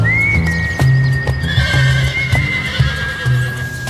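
Thoroughbred horses at the Keeneland bloodstock auction in Kentucky, a loud nearby whinny rising over sharp hoof clip-clops on a hard surface, with more hoofbeats and a faint second neigh following.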